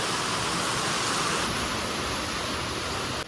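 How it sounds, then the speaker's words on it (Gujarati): Rainwater pours steadily in a rainy village, a dense unbroken rush like a spout or runoff falling close by, loud and constant with no voices over it. "અહીંયા જો પાણી પડે છે."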